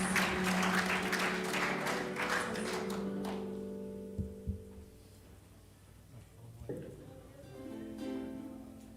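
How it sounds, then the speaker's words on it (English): Crowd applause at a hula competition for the group Tamatea Nui o Kauai, a broad wash of clapping that is strongest over the first three seconds, then thins out as a few taps and lingering sound remain. "Give a round of applause for Tamatea Nui o Kauai."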